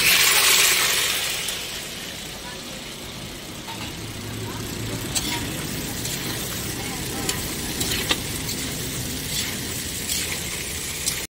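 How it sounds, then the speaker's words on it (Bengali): Cut potatoes half-fried in oil for an okra dish, a steady low sizzle with a few faint clicks and scrapes, accompanied by a background engine-like rumble. "এখানে আলুটা হাফ ভাজা হয়ে গেছে"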